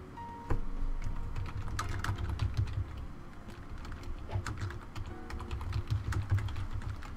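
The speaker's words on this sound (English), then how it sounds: "Oh my gosh, my typing today." Someone types quickly on a computer keyboard, with dense, irregular clicking keystrokes close up and a few sharper taps, alone with no talk.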